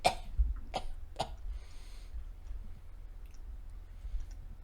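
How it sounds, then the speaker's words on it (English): A few sharp coughs close up at the start, spaced about half a second apart, followed by quiet rustling and faint clicks. "now you hear coughing"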